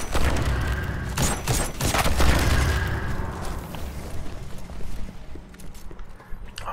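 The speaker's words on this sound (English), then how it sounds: "I just grenaded myself." A grenade blast in Destiny 2, a loud boom with rumbling debris and scattered impacts that slowly fade into ambient game noise.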